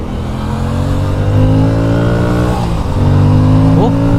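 An Aprilia Tuono 457 motorcycle engine drones loudly and close, its pitch climbing smoothly as it revs, with a brief dip and quick blip near the end.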